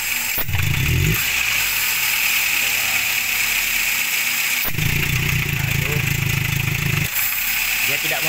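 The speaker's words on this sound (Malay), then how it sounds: "Suara enjin tuh jadi tertahan" Toyota Avanza engine with a failing fuel pump running rough, a steady mechanical hum joined by two strained low surges that rise and hold for a couple of seconds before dropping back.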